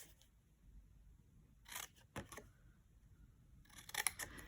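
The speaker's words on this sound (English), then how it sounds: "I'm going to use my paper snips just to snip one score line of each of those" Paper snips cutting score lines on a papercraft box, a few short crisp snips in separate bursts, close and quiet against near silence.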